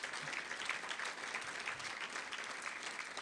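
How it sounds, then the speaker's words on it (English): Steady audience applause fills the room at an event honoring a city's chief technology officer, a dense, even patter of many hands clapping that holds at a constant level for several seconds. "Let's give her a round of applause, Robin"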